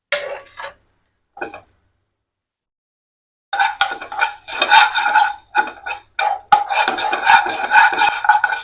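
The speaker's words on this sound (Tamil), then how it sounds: "தனியா, மிளகு, ஸோ இது எல்லாத்தையுமே ஒன்னா போட்டு நம்ம டக்குன்னு வதக்கிடலாம்." Coriander seeds, black pepper and cumin are stirred and sautéed in a pan, making close rustling scrapes in short bursts. After an early quiet gap the scraping continues more densely.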